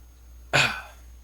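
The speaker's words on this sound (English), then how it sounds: "Gotta clear my throat." A man clears his throat once, a short, loud, rasping burst close to the mic that fades over about half a second in an otherwise quiet room.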